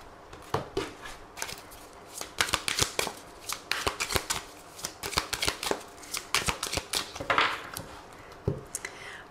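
A deck of tarot cards being shuffled by hand, close by, in quick bursts of riffling and flapping with short pauses between them, faint background hum throughout.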